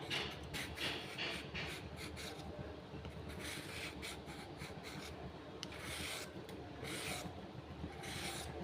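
A carrot is grated on a hand grater in a kitchen, making rhythmic rasping strokes that are soft and close, with no talking.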